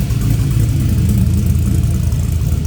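A car engine with a Summit 8707 cam and a 102mm intake idles loudly and steadily through the exhaust on a cold start, a deep continuous rumble with a slight throb.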